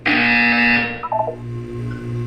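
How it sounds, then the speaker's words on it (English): A harsh electronic buzzer sounds in the Portal 2 game, a loud sustained tone that cuts off after about a second into a lower fading hum. "You will hear a buzzer."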